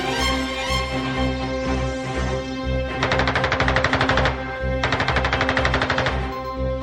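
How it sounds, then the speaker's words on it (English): Twin ShKAS machine guns on a Polikarpov I-16 fighter fire in two rapid, dense bursts over a droning engine, each volley a fast rattling stream lasting over a second. "E-16 was armed with 2 Shkas machine guns"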